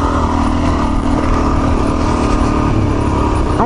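A dual sport motorcycle engine drones steadily and loudly while climbing Thomas Mountain in total darkness, a constant close engine note with wind and no pauses.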